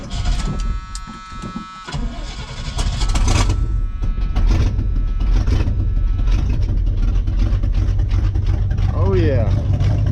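Engine of a 1977 Chevy K20 truck, abandoned and sitting over ten years, fuel fed straight into the carburetor bowl, cranking and catching at about three seconds, then holding a steady loud idle; a voice speaks briefly near the start.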